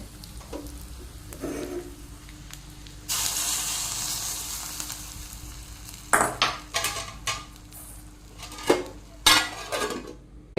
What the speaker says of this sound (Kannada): ಈಗ ನಾನು ಒಗ್ಗರಣೆಯನ್ನು ಹಾಕ್ತೇನೆ